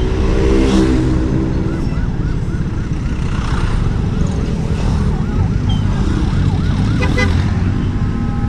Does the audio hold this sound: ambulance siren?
yes